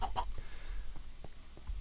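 A chicken in a modded Minecraft game gives a couple of quick clucks at the start, then only faint game ambience follows.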